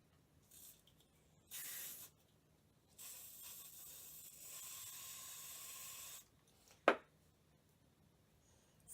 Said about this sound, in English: I'm going to substitute that with WD-40. And I'm just going to kind of soak this.